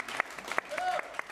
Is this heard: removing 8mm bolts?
no